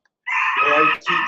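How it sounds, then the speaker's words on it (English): A rooster crows loudly in the background of an online mindfulness group meeting, one long sustained call with a brief dip near the end, while a person speaks over it. "I think there's a rooster in the background."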